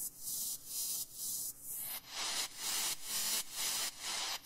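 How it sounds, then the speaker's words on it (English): Swept white noise from a synthesizer in Ableton Live 10, modulated by an LFO with light reverb, pulses in a steady rhythm of hissing bursts that rise and fall about twice per second. "We'll start with swept noise."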